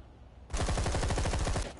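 A submachine gun firing in the zombie video game Zombi, one rapid burst of steady repeated shots that starts abruptly after a brief quiet moment and continues to the end.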